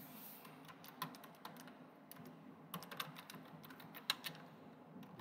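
A computer keyboard being typed on in irregular short bursts of soft clicks, faint and close, with no voices.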